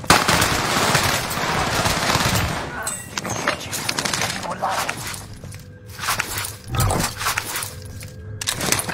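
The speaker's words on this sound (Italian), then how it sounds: "Fucile d'assalto." Assault rifle bursts crack and rattle during a video game match, with dense gunfire at first and then scattered shots and footsteps, under players talking.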